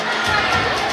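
An audience at a prize-giving during a cultural program in Islampur claps and cheers, a dense, loud wash of crowd noise that fills the whole second.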